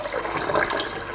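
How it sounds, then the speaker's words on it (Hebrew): Water pours steadily into a large cooking pot for chickpeas, a continuous splashing rush from close by with no voices. "ואני מוסיפה מים, הרבה מים, כי החומוס במהלך הבישול"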